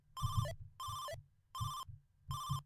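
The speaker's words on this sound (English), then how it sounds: "David, I think the phone is for you." A telephone rings four times in even bursts of bright electronic trilling, each about half a second long with short silent gaps between, fairly quiet and with no voices.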